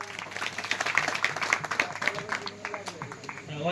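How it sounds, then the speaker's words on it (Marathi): An audience at a religious storytelling gathering claps for a girl named Mrunali. It is a scattered, moderately loud burst of hand claps over a few seconds, with a voice talking over it. "मृणालीसाठी एकदा टाळ्या वाजवा"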